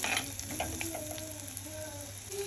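Shallots sautéing in a pan with a quiet, steady sizzle and light scraping and clicking from stirring, close by and without talk.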